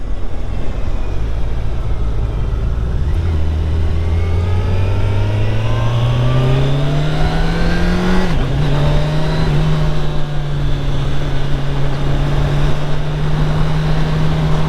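A 2021 Kawasaki Ninja 1000SX sport bike pulls hard while riding, its engine note climbing smoothly through the revs, dipping briefly at an upshift, then holding a steady loud drone with wind rush.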